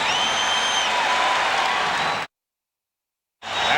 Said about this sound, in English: The crowd trying to get the home club going